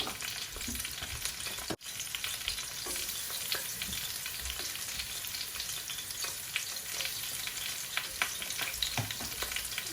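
Whole cloves, cardamom, peppercorns and cinnamon frying in hot oil, a dense, even crackling sizzle that holds steady for the whole stretch with a single brief dropout, no voices.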